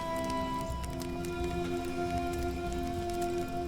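Rain falling in the survival game Aska, a steady even patter across the whole stretch with tonal game music lines running beneath it and no talk.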